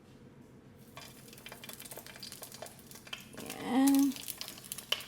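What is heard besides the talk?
eggplants frying in a pan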